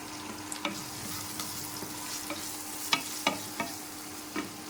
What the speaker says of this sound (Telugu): ఇవన్నీ బాగా కాలేటట్టు వేయించుకోవాలి